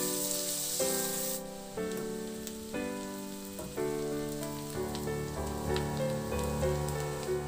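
Sliced onion frying in a pan while cooking a shrimp dish, giving a steady, close sizzle that runs the whole time beneath stepped, tonal background music.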